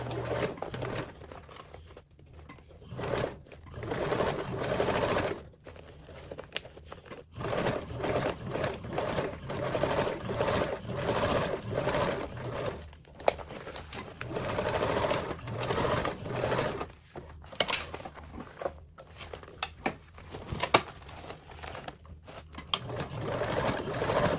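A sewing machine bastes the sides of a toiletry bag, its needle running in long bursts with brief pauses between, a close, steady mechanical chatter throughout.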